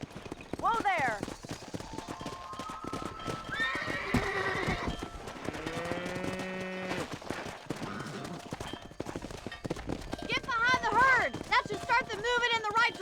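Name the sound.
horse neighing and hooves in video game Red Dead Redemption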